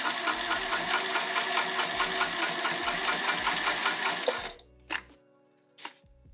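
A sewing machine set to a 3 mm stitch length runs steadily through the heavy, non-cotton fabric of a Hendrix bag, a close rapid mechanical rattle that stops abruptly, followed by two brief clicks.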